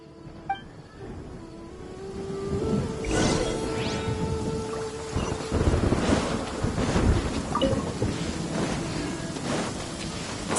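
Heavy downpour and rolling thunder in Genshin Impact, a steady wash of rain broken by several deep rumbles and cracks, with some wind buffeting, running alone for about ten seconds.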